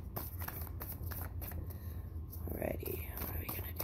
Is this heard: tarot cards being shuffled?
yes